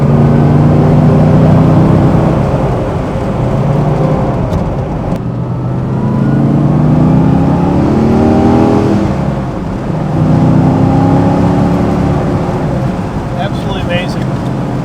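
A 1969 Chevrolet Corvette L88 engine roars loud and close from inside the car on a ride, its pitch sweeping upward through repeated gear pulls, with a brief dip between surges.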